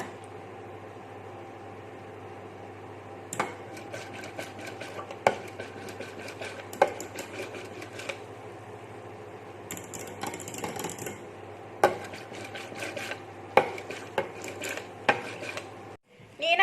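A spoon stirs agar jelly gently in a pot over low heat, giving faint, irregular scraping taps against the metal over a steady low hum.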